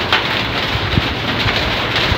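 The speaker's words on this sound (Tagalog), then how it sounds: "Ning ulan man." Steady rain falls outdoors in a dense, even hiss with faint patter, continuous and fairly loud throughout with no voices.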